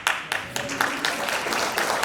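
Audience applause at an awards banquet, steady scattered clapping from a crowd filling the room and continuing evenly throughout.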